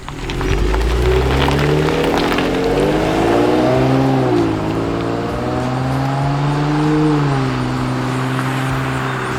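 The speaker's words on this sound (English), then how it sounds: "we're gonna end the video with a couple exhaust shots and hear those intakes" Modified Ford Police Interceptor with aftermarket exhaust and intake, a deep engine note rising and falling through several rev swells, steady and close.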